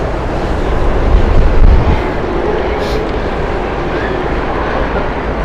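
A British Airways jet takes off at Heathrow. Its engines make a loud, rushing roar mixed with heavy wind buffeting on the microphone, and the noise peaks briefly early on before settling into a steady rumble.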